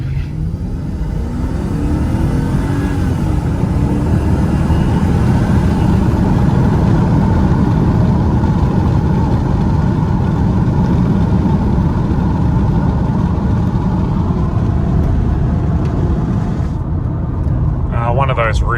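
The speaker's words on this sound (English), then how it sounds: "Just going to give it some part throttle, just to waken it up." A 1970s to 2000s Mercedes engine runs at part throttle on the road, a steady loud low rumble with road and tyre noise that holds throughout, while someone talks over it.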